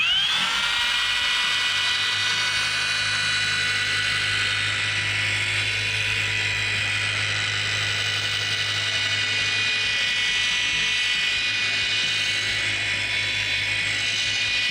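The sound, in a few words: dual-action polisher pad buffing car paint with polish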